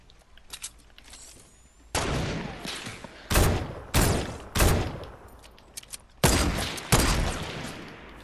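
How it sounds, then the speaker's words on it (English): Gunfire in the Fortnite video game, with about six loud, sharp shots crackling at irregular intervals, some close together, over a faint background of game sound. "I'm getting sniped from all angles."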